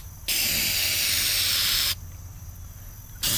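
Rust treatment sprayed from an aerosol can onto a car body panel, a steady loud hiss lasting about a second and a half, then a pause and the start of another burst.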